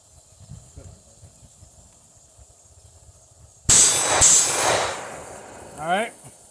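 A rifle fired unsuppressed with an FRT trigger and muzzle brake lets off one sharp, very loud shot that rings and hisses away, preceded by quiet low talk and followed by a brief metallic whine.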